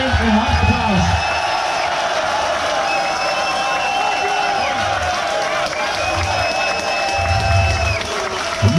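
A crowd at a Dutch farmers' protest cheers and claps, a dense roar of voices with whoops and steady tonal calls running through it, loud and continuous for about nine seconds.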